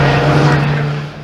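A historic Formula Ford 2000 race car goes by on the Oulton Park circuit, its engine a loud, steady, high-pitched drone that fades slightly as it moves away, with no voices over it.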